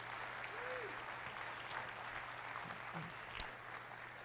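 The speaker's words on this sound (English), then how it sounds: "Another round of applause for John" Quiet audience applause for an award recipient at a members' awards ceremony, soft and fairly distant, steady clapping with a couple of sharper claps standing out.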